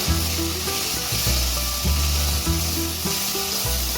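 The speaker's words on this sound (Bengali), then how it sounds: "এবার মশলাটাকে ভালোভাবে কষিয়ে নেব" Masala of mustard and poppy seed paste with a spoon of sour added, cooked down over low heat in a pan before okra goes in, sizzling steadily with scraping stir strokes and clanks repeating throughout.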